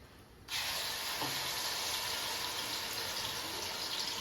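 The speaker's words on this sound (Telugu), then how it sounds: "ఇప్పుడు మనం ఉల్లిపాయల ముద్ద వేసేసుకుందాం" Onion paste dropped into a hot pot while cooking a Konaseema-style korameenu fish curry: a sudden loud sizzle erupts and holds as a steady, bright hiss, with no one talking.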